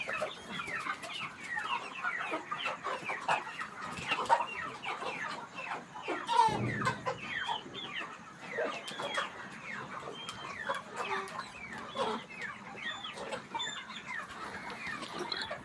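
Broiler chickens in a poultry shed cluck and chatter continuously, many birds overlapping in a busy, close murmur with one brief louder thump midway and no talking.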